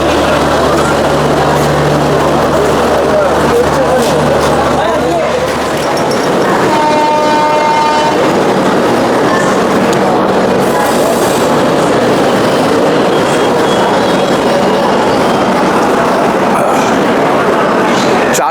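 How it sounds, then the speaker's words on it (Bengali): The Sealdah Rajdhani Express pulls into a busy Kanpur Central station with loud, continuous rumbling and rail noise. A horn-like tone sounds briefly midway, and crowd chatter mixes in. "আমাদের ট্রেন শিয়ালদা রাজধানী এসে পৌঁছালো এর প্রথম হল্ট কানপুর সেন্ট্রাল"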